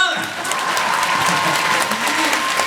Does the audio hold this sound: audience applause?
yes